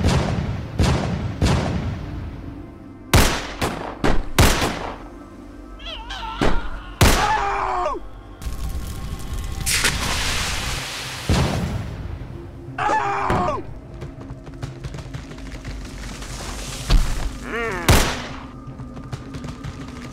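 Repeated booming cannon blasts in a Lego pirate sea battle, a dozen or so sharp, loud reports at irregular intervals, some in quick pairs, with groaning voiced effects and shouting between shots that mimic the battle.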